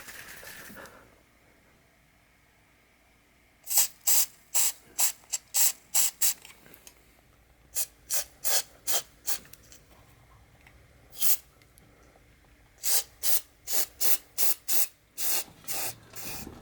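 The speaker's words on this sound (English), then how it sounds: "I'm just going to spray some silicone in there." Repeated short bursts of silicone aerosol spray onto the bearings of a Keys Fitness Discovery 6.0 exercise bike, close and crisp, in quick clusters of hissing puffs separated by brief pauses, with no talking.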